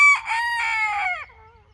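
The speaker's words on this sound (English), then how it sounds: "getting two new roosters for our flock" A mature rooster from a backyard flock crows once, loud and close, a single clear cock-a-doodle-doo with a drawn-out fading tail.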